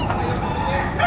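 A rooster crows loudly and close at a chicken market in Batangas, one sustained crow filling the moment, with market bustle around it.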